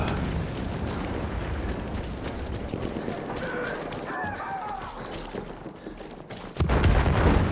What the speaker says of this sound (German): Granate ist raus, Köpfe runter!